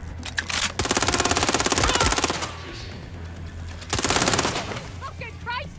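Automatic gunfire from the Watch Dogs Legion video game, two loud sustained bursts of rapid shots separated by a pause, with other in-game sounds and distant voices between them.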